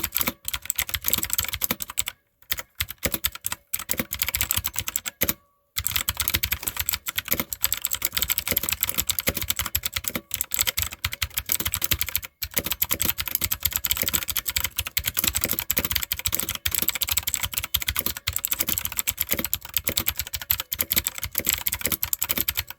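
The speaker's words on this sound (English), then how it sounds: "I'll let you all hear some ASMR of how the keys sound while typing." Typing on a BlackShark Sixgill K4 60% RGB gaming keyboard, a continuous close-up stream of rapid key clicks and clacks with a few brief pauses, no voices.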